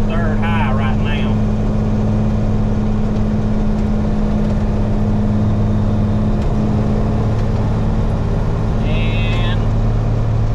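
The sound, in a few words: International 4900 truck engine driving in third gear high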